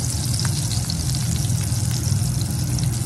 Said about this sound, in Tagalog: masarap pagluto ng steak yan